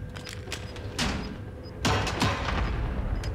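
Airstrike explosions in Warzone on Rebirth Island, a few sharp, heavy blasts arriving one after another, loud and fairly close, with rumbling tails between impacts.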